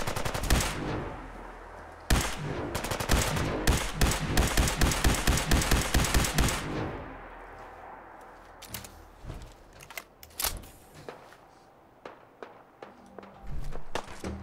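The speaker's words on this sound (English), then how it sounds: "Why are you shooting my provisioner?" Gunfire in the video game Fallout 4 at a settlement: a rapid automatic burst of shots up front, then scattered single cracks and short volleys at uneven intervals, fading toward the end.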